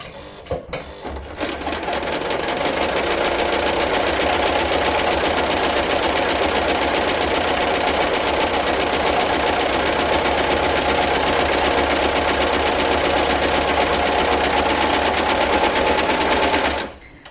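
A serger sewing machine stitches a fabric sample in one long, loud run, its rapid mechanical chatter steady and fast for about fifteen seconds before stopping abruptly.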